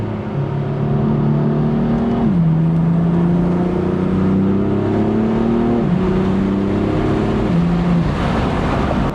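A BMW M4 with an S55 engine and stock exhaust revs loudly and continuously from inside the car, its tone climbing through the gears with clear dips at each shift.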